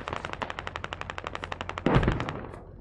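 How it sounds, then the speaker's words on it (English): Automatic gunfire from the video game Squad rattles off in a rapid, even string of shots, then a louder burst with a heavier blast rises before the firing stops abruptly. "They're shooting back, it sounds like."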